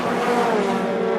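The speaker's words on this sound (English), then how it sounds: "Ben Rowe on the inside line for Paddock Hill Bend, and he goes through" Toyota MR2 race cars at Brands Hatch running side by side through Paddock Hill Bend, a loud, steady engine drone with harmonic whine that holds throughout, close to the microphone, with no voices.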